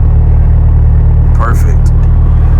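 A tuned Mitsubishi Evo engine idling, a loud steady low rumble throughout, with a brief voice near the middle.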